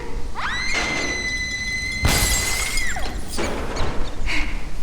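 Glass breaking in the LEGO Jurassic World game: a sudden bright crash cuts over a sustained tonal game chime and busy background sound, followed by softer crumbling debris.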